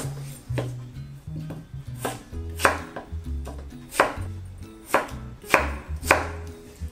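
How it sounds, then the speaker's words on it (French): Peeled potatoes cut roughly into large chunks on a board, a quick series of firm, close knife thuds in an uneven rhythm, with no talk. "Voilà, les pommes de terre sont épluchées, on va les couper rapidement, grossièrement."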